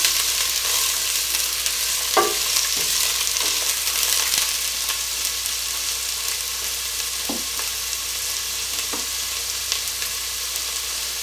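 Carrots frying and sizzling in a hot pot for chicken rice soup, a steady bright hiss throughout with a few soft clanks of stirring scattered across it; no talking.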